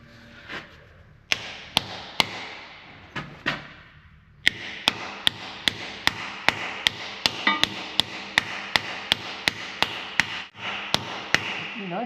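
Steel hammer blows on a John Deere dozer track in a repair shop, a few spaced strikes at first, then a fast run of sharp ringing metallic hits, loud and close.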